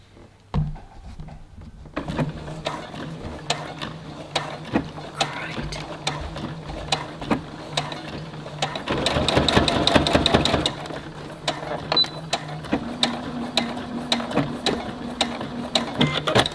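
A sewing machine stitches the front and back panels of a work dress, running close and loud with rapid, steady mechanical clatter, surging into a faster stretch midway and continuing in uneven runs.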